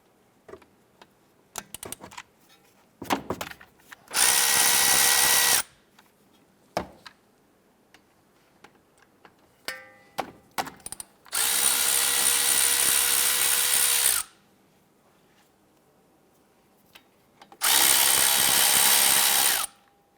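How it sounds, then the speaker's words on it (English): Three loud bursts of a power tool (impact gun or drill) loosening the two 14mm brake caliper bolts on a 2012-2017 Toyota Camry, each lasting a few seconds, separated by quieter clinks and workshop handling noises. "We're going to go ahead and loosen our two 14mm bolts securing the caliper to the bracket."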